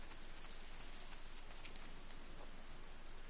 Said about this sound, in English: it's not really the best place to live, it looks like, and it's fucking raining